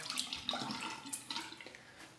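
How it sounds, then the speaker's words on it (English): Water poured out of a marble shaving cup into a sink, a brief splashing trickle with a few small drips at close range, no talk. "Pour out the water."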